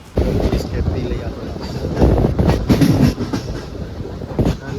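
A train at a railway station on a rainy day, with rolling rail noise and faint clatter running steadily throughout, mixed with wind buffeting the microphone and a murmur of voices in the background.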